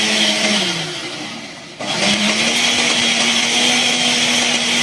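A kitchen blender whirs loudly, blending mint and tomato chutney ingredients, its motor dipping briefly before surging back to a steady high whine; no one speaks.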